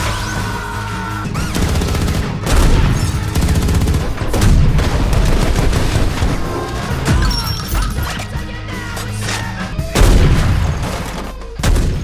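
Gunfire in an action film battle, dense bursts of shots and crashing impacts layered with a loud, busy soundtrack, continuous and intense throughout.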